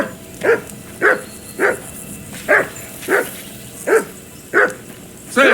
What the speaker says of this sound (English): Henry, hey, call off that mutt of yours.